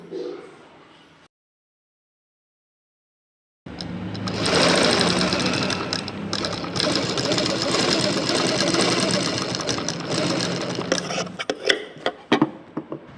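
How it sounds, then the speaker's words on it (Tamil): A sewing machine stitches along a double-folded blouse hem, a fast steady mechanical whirring and clatter running loud and close for several seconds, breaking into short uneven bursts as it stops, after a brief voice and a silent gap. "இது இந்த மாதிரி டபுள் ஃபோல்ட் பண்ணிவிட்டு ஓரத்தில் தையல் போட்டு எடுத்துக்கலாம்"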